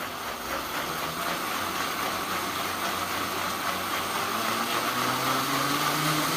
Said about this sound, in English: I'm gonna turn my blender on.